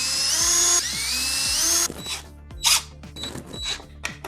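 A power drill drives screws through black-finish corner braces into the edge of a table, giving a steady whining buzz that shifts in pitch, then stops and is followed by a few short clicks and taps.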